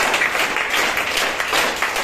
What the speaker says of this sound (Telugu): ఒకసారి అందరికి వాళ్ళకి క్లాప్స్